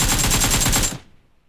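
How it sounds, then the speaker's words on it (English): A single sustained automatic burst from a gun in PUBG Mobile, a rapid loud rattle of about fourteen shots fired close up, then a short decaying tail into silence. "We're gonna just fire a burst"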